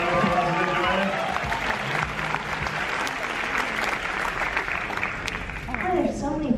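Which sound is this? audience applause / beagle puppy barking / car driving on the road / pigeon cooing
audience applause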